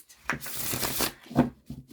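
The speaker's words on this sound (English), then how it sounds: "It shuffles like a dream." A Tabula Mundi tarot deck is riffled and shuffled by hand in a few quick, close bursts of papery card flutter, with a brief pause between bursts.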